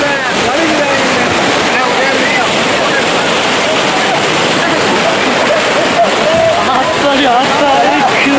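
Water splashes and rushes continuously at a small waterfall in Kookal, a loud close wash of churning water that never lets up, with people talking over it.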